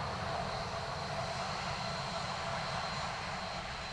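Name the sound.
Ryanair airliner arriving from Gatwick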